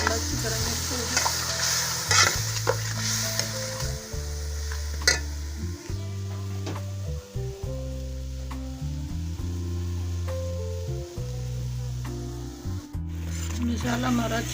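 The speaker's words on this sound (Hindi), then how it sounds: "मसाला हमारा अच्छी तरह फ्राई हो गया।" Spices sizzle and fry in a pan for a chicken neck and white bean dish, with steady scraping and stirring strokes throughout, close and continuous at a moderate level.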